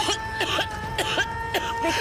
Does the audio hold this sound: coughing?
yes